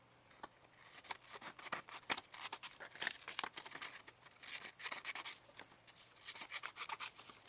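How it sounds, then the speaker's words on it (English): Scissors snip and rustle through paper while cutting out a picture for a Halloween collage, a quiet, close run of crisp cuts and crinkling paper with no talking. "And let's cut out our picture."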